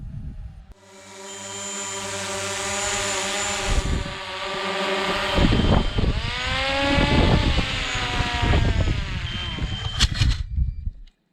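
An FPV drone flies outdoors near Lac Du Bois, its motors whining loudly with pitch sweeping up and down as the throttle changes, close and continuous with a few clattering knocks.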